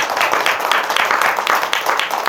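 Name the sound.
audience applause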